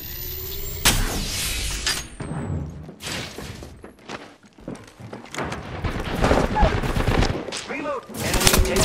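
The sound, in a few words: gunfire in the video game Apex Legends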